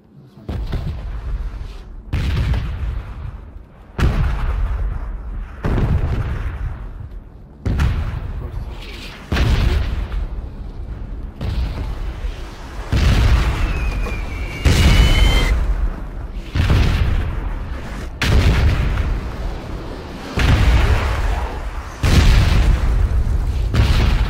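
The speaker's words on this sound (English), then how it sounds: "You hear those booms in the background, that's the guns firing" Heavy booms of artillery strike explosions in PUBG land one after another at a steady pace, loud and deep, with rumbling between blasts.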